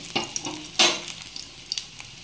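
Soybean omelette frying in a pan gives a soft sizzle broken by a few louder scraping bursts as it is turned, close and without voices.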